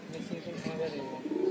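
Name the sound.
pigeon cooing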